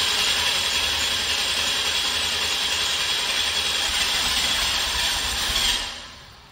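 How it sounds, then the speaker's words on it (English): A 1986 Oldsmobile 98 Regency Brougham engine turns over on its first start after an injector change, giving a steady, loud, rough mechanical roar that holds for nearly six seconds and then drops away. "Here we go, first start since changing the injectors."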